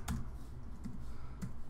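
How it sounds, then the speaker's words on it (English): Someone types on a computer keyboard while entering a network drive address during Synology DS220+ setup. A few separate, quiet keystrokes are spaced over about two seconds, with no talking. "So I would type in"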